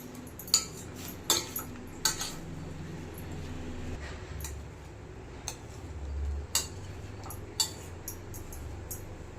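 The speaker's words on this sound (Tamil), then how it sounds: "இது எல்லாத்தையுமே இப்போ நான் ஜென்டலாக மிக்ஸ் பண்ணிக்கிறேன்." A spoon gently folds chopped apple, pomegranate and mango into custard in a pan, giving soft scraping with a few sharper clinks against the metal, irregular and close, with no talk.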